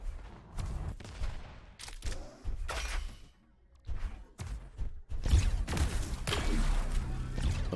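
Railgun shots traded in a duel match of an arena shooter video game, repeated sharp bursts and crackling blasts mixed with game effects, loud and close at an irregular pace.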